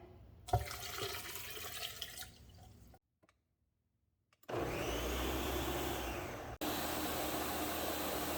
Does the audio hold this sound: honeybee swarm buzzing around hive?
no